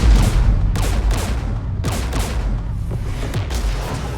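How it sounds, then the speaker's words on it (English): Gunfire in Mass Effect 3 during the Rannoch mission: loud, dense bursts of shooting and booming impacts repeat every second or so, close and heavy, with no talking. "We're taking fire."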